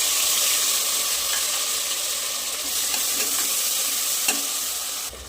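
Tomatoes and green chillies fry in a pan for pav bhaji, a continuous loud sizzle with faint stirring scrapes and a brief clack near the end.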